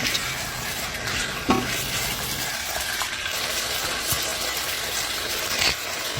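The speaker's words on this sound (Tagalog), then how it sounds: "Continue lang tayo sa ating paghahalo." Chicken for chicken ginataan with sayote being stirred in a pan, with a low steady sizzle, repeated scraping strokes and a few light clinks against the pan.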